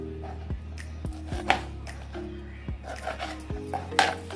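A knife chops a large Bombay duck fish into four pieces on a board: several sharp, close thuds spaced about a second apart, over a low steady hum, with no talking.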